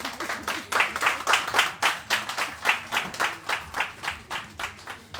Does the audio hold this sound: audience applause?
yes